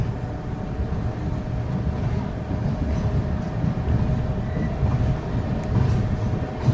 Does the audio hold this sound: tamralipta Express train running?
yes